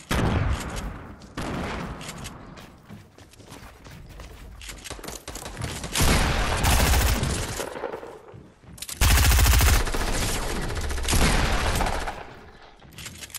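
Gunfire fills a multiplayer shooter match, with dense bursts of rapid shots and booming volleys in loud clustered waves separated by quieter stretches.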